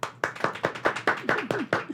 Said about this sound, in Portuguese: Uma salva de palmas aqui, Brasil.